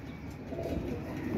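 A female pigeon coos, a low, soft, steady murmur held across a short stretch at moderate distance, with no voices over it.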